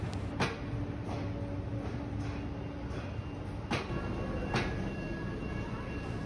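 A Softrans private passenger train built by Softronic is heard from inside or nearby as a steady low rumble of rail noise, punctuated by several sharp clicks and knocks, with faint voices in the background.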